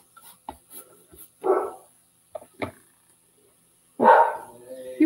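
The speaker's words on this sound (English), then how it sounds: "My bubbles are barking." Dogs bark in short bursts indoors during a painting and craft session, a few sharp yaps early on, then louder clustered barking, with gaps of quiet between.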